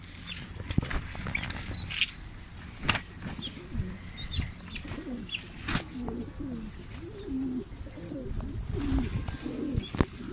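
Pigeons in a loft coo repeatedly in soft, rolling calls, close by, with sharp wing flaps and knocks breaking in now and then against a quiet background.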